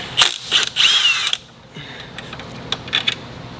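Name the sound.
ratchet and 8mm socket removing engine cover on Cummins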